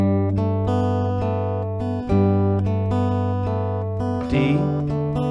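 Acoustic guitar strumming one full round of the chord progression from a song, steady ringing chords that change every couple of seconds, sustained and full, played alone with no voice.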